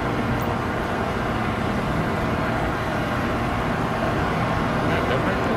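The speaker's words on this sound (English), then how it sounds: "That chopper is so loud." Police helicopter in the GTA 5 video game, a loud continuous rotor and engine roar that fills the whole stretch without pause.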